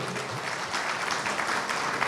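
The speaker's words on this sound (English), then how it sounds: "thank you, George, for starting the round of applause" Steady clapping from a community gathering audience during a local politician's event, a moderately loud, even round of applause filling the whole stretch with no speech over it.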